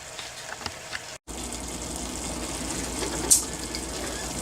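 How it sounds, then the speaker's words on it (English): Ground beef for chili fries in a pan with a soft, steady sizzle as it is stirred, quiet and close, with a brief scrape partway through. "we'll just keep stirring this here until we get the ground beef to cooking"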